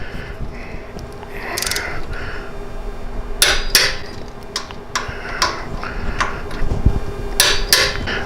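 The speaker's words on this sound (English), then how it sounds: "we'll go ahead and tighten these down to spec" Bolts being tightened to torque spec on a Harley Touring motorcycle during a powder coat parts install, scattered metallic clicks and ratcheting clacks at irregular intervals over a low background hum, close and without talk.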